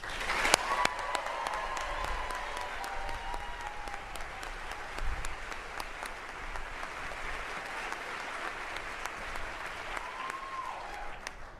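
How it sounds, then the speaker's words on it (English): Audience applause at a NASA astronaut class ceremony, a steady wash of many clapping hands with a few sharper claps up front, moderately loud and sustained before gradually thinning toward the end. "please join me in giving them another round of applause"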